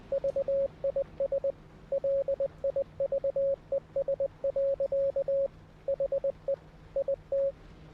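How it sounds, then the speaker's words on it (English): A Morse code radio signal in the video game Pacific Drive: a steady tone keyed in short and long beeps, clean and continuous over a faint background hum. "Ah, Morse code."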